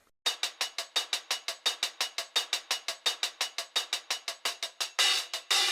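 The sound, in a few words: hi-hat loop, original unchopped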